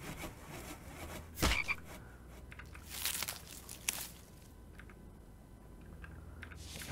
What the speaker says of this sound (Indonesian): Ada kodok-kodok, ada banyak kodok nih.